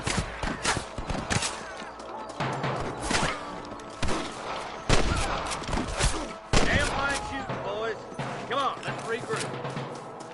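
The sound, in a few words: gunshots in the video game Red Dead Redemption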